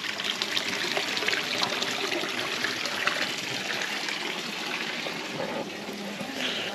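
Channelled water flows out of a conduit in a scenic Italian village, a steady, continuous trickling gush that holds an even level throughout with no voices over it.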